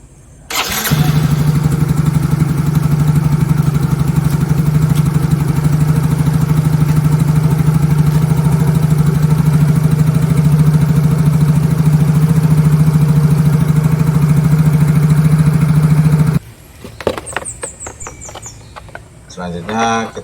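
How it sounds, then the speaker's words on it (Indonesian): A Yamaha Mio scooter, just fitted with a new spark plug, fires up after a brief crank and settles into a steady, loud, close idle for about fifteen seconds, then cuts off, leaving faint handling noises. "kita hidupkan motornya"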